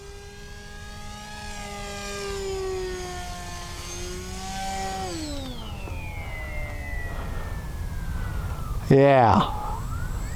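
An H-King Bixler 3 RC plane flies at full speed, its electric motor whine sweeping up and down in pitch as it passes, with a sharp burst near the end and a voice speaking briefly.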